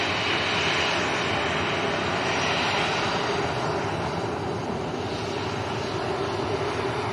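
A vintage Avro Anson's piston engines drone at Leeds Bradford Airport, a steady loud rumble with a broadband roar that holds throughout and fades slightly toward the end.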